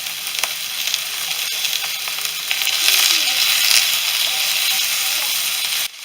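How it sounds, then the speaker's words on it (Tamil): Onion cubes and capsicum sautéing in a hot pan for prawn Manchurian, giving a steady loud sizzle with light stirring scrapes throughout and no speech. "டூ மினிட்ஸ் சாட்டே பண்ணால் போதும்."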